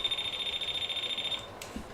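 A non-contact voltage tester held against a wall emits a steady, rapid high-pitched beeping that stops abruptly, followed by a faint click, close and alone.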